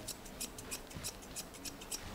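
Grooming scissors cut a standard poodle's hair in quick, regular snips, about seven crisp close cuts over a soft background hush, with no talking.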